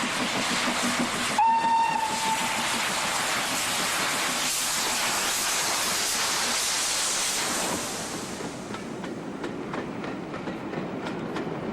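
A British steam locomotive's whistle shrieks once, then it chuffs and rumbles loudly as carriages clatter along the rails, departing a seaside town, the sound easing slightly as it moves off.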